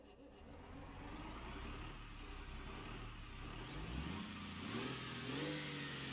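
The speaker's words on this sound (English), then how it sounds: "Next up is the bus engine. So it's a meme engine, so I put it into a meme truck." Bus engine fitted to a monster truck in BeamNG.drive, a steady loud engine drone that rises in pitch as it revs up near the end, with no talking.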